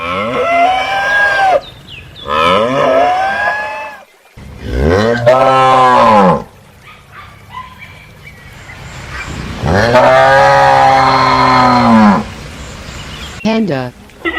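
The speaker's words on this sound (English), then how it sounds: "Cow." Cattle moo several times in long, loud, harmonic calls separated by short pauses.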